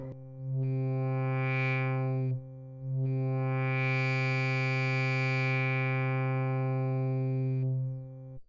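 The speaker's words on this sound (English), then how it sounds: "Let's listen to the low pass first, and it does exactly what you'd expect." A sustained synthesizer tone plays two long held notes through a Sherman FilterBank V2 low-pass filter, its brightness swelling and fading as the filter sweeps open and closed, a little noisy and hissy.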